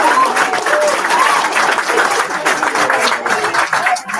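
Audience applause at the official launch of West Coast College's E-Sondo Project Power Up, a dense, loud round of clapping that keeps going, with some voices mixed in.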